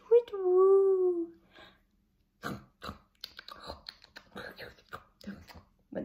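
A voice imitates a hedgehog snuffling: a brief hooting call at first, then a run of short, breathy sniffs and snorts in an irregular patter, close and fairly quiet.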